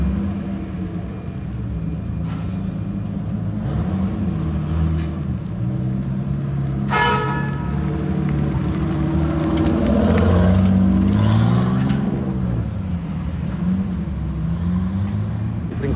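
A classic Nissan Skyline Hakosuka, a half-and-half JDM car, drives past at a show, its engine rumble swelling as it nears and then fading away, over steady background crowd and traffic noise.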